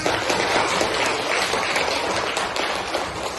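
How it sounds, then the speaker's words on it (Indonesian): Dense, steady applause from an audience at a school gathering in Indonesia fills the whole stretch, loud and close, with no voices over it. "Tepuk tangan dulu yang mulia"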